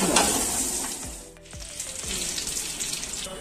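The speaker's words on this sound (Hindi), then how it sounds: "और 2 लौंग और 1-2 लौंग और 2 काली मिर्च ये हमने ऐड कर दी इसमें।" Whole cardamom, cloves and black pepper sizzle in hot oil as the base for a tomato soup, a steady close crackle with a few scraping stirs and a brief dip midway.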